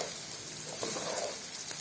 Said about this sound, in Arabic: وافضل اشوح المكرونة دي شوية على قد ما نقدر